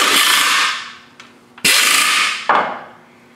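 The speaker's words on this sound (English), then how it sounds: "Well, now we can tighten these bolts up." A ratchet tightens transmission bracket bolts in two quick bursts of rapid clicking, each fading out, with a few sharp metallic taps in between, close and loud.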